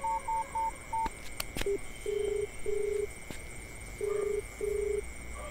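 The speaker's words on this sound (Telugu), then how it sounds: "నేను తనకి ఇప్పుడే ఫోన్ చేస్తాను" Phone number being dialed, a quick run of short keypad tones followed by several longer evenly spaced ringback beeps, close and clear.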